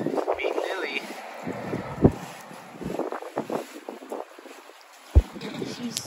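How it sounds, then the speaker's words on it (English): Gusty wind buffeting the microphone in bursts and rumbles, with a person talking intermittently over it. "It is incredibly windy here."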